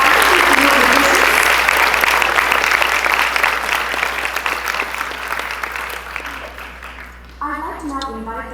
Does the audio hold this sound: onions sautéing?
no